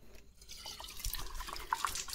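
A faint trickle of running tap water, with a few light splashes and drips, plays alone for a couple of seconds.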